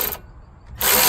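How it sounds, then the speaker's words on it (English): A Milwaukee power tool loosens the nut on a Honda Civic front strut, a short loud burst of ratcheting mechanical whir that breaks off briefly and then returns. "Now we're going to loosen it with the Milwaukee"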